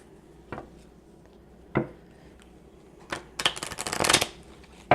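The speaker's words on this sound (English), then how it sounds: "Sometimes I do so well with shuffling them" Tarot cards being shuffled by hand during a reading: a few isolated soft taps and riffles, then a longer, louder burst of rapid card shuffling near the end, close and clear with no talking.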